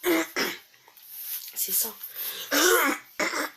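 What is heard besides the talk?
cough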